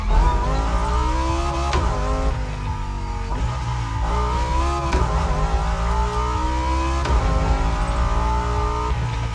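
A car engine in the video game The Crew Motorfest revs steadily with rising and falling pitch through gear changes, loud and close, with faint tire noise underneath; no talking.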